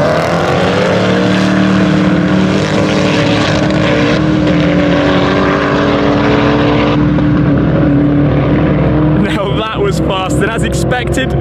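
Koenigsegg One:1 and Regera hypercars drag race with a loud, continuous engine roar close by. A rising drone saturates the sound and shifts pitch near the end, and a voice is mixed in under the engines.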